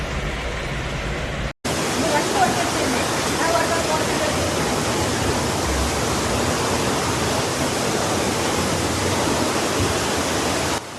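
Rushing floodwater in Zhengzhou, China, deep enough to reach a car's hood, roars as a loud, steady wash of noise that stays constant throughout, apart from a brief cut near the start.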